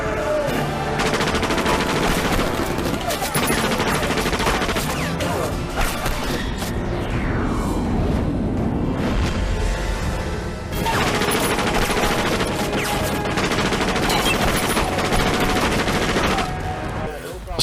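Loud, dense movie gunfire from a Thor film scene, with sustained bursts of shots and crashes filling the mix, briefly easing midway before resuming.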